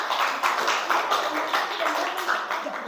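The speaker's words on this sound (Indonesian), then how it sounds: "Beri tepuk tangan untuk kelompok 4." Classroom students clapping for group 4 during a school lesson, a steady patter of many hands at moderate loudness throughout, with some voices mixed in.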